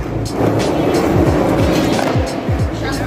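A skateboard rolls over pavement nearby with a continuous loud grinding rumble, punctuated by several quick thumps as wheels cross joints or the board shifts.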